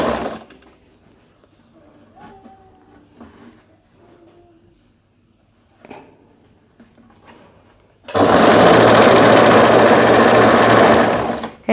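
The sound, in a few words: sewing machine stitching a bolero jacket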